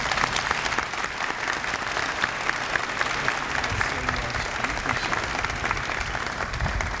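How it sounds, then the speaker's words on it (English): A large audience at a university fall convocation claps in a continuous, dense wash of applause that holds steady and loud from start to finish. "Let's give them another round of applause."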